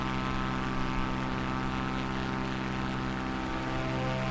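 An aircraft engine in Microsoft Flight Simulator 2024 running at maxed-out RPM, a steady, droning propeller roar that holds constant and moderately loud throughout, with no talk.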